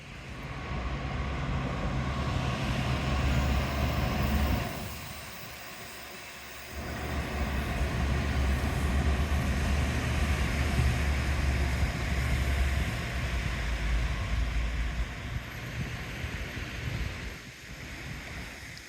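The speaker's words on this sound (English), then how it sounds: "There we go, train from the beach." A train passes along a sea wall by the beach, a long steady loud rumble that briefly dips partway through then resumes, rolling on and fading slightly near the end, with no talk.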